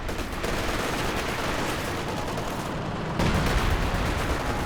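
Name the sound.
creeping artillery barrage in video game Company of Heroes 2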